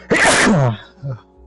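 A single loud, close sneeze bursts out, followed by a short softer sound after a brief pause.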